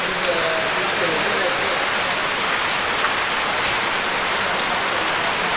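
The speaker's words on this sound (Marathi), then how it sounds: "किती जोरात पाऊस पडतोय बघा," Heavy rain pours down in a steady, dense hiss throughout during an early-morning downpour with the power out, loud and continuous with no breaks.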